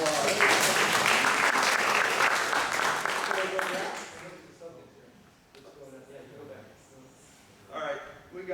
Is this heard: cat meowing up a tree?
no